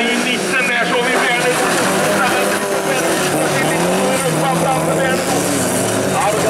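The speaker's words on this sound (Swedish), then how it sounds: "Det är en kanonstart av 115 Tobias Blomberg från MK Kinda på ytterkanten i mitten" Rallycross cars launch off the start line at a Vimmerby bilcross event, engines roaring loudly and continuously with dense overlapping revs, while a commentator talks over the racket.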